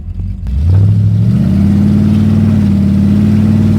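A 1934 Ford car engine pulling away from a stop and accelerating in third gear, a loud, close, low rumbling growl that rises in pitch and then settles into a steady drone.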